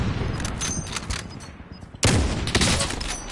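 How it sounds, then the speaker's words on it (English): Enemy gunfire in Call of Duty Warzone, bursts of rapid shots crackling through the first half, then a louder, closer burst of fire around the two-second mark that keeps going to the end. "He's shooting at us."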